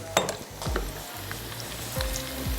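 Carrots and onion sauté in a pan over lowered heat. A soft, steady sizzle is broken by a few light clinks and scrapes of a utensil against the pan.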